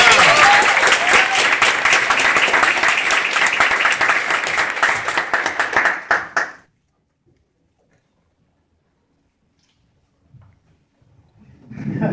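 A crowd applauds loudly for about six seconds at a high school graduation ceremony, the clapping fading out into silence, followed by a faint stir of sound at the end.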